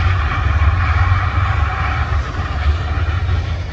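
Airplane engines roaring at Homer airport in Alaska, a loud, steady low rumble of aircraft taking off, continuous and unbroken with no voices.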